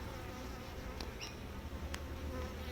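Bees buzz steadily inside a busy, crowded hive, a soft, dense drone close by with a few louder individual buzzes passing near.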